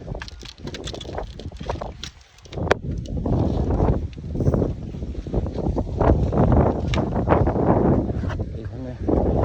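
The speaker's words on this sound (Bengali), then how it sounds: "আমাদের বাতাস হচ্ছে আজকে বিকালবেলা, ঝড় বৃষ্টি হইতে পারে।" Strong wind gusts through a garden ahead of a storm, buffeting the microphone in loud, uneven surges while a person talks over it.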